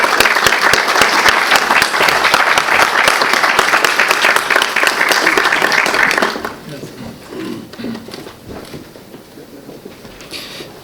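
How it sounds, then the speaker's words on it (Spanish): An audience at a forum applauds to welcome an ambassador, a loud, dense burst of clapping that stops abruptly after about six seconds and gives way to quieter room sounds and faint voices. "Recibamos al embajador Juan Carlos Capuñay Chávez con el aplauso que realmente merece."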